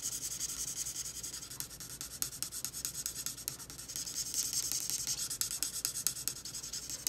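A marker colors back and forth on stamping paper in a continuous scratchy rubbing, fast short strokes repeating close up and at low volume, with no talking.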